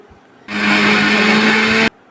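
A mixer grinder jar grinding dry-roasted ragi into powder gives one loud, continuous, high whirring burst of about a second and a half that starts and stops abruptly, with no talking.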